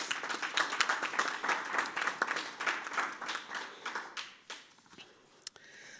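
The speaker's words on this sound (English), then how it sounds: "Let's give her a round of applause." An audience at a Stand Against Racism event gives a round of applause, brisk clapping at moderate volume that thins out and tapers to a few scattered claps.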